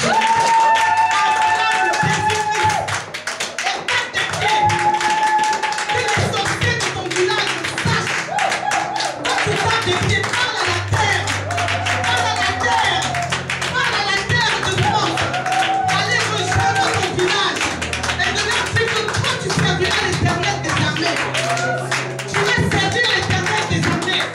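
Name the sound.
congregation stamping on the floor and cheering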